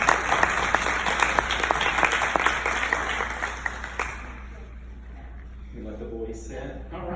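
A round of applause from an audience at a family panel event, dense clapping for about four seconds that fades out, followed by a voice starting to speak.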